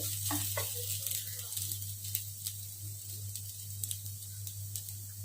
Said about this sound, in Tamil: கொஞ்சம் வாசனை வர அளவுக்கு தேங்காய் வறுத்துக்கலாம்.